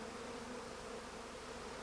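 Honeybees hum inside their hive, a faint, steady, close buzzing drone with no breaks and no voices.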